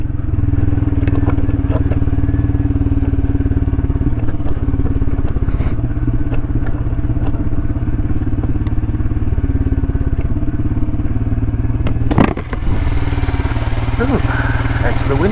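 A Royal Enfield Himalayan motorcycle rumbles steadily as it rides a firm road, with luggage clattering and rattling in the panniers and occasional sharp knocks, someone talking over it.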